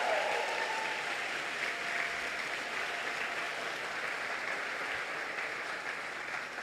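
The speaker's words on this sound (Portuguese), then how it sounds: "Pode aplaudir, pode aplaudir, pode aplaudir." A church congregation claps steadily for several seconds during a sermon, a dense even wash of applause that slowly eases slightly in loudness.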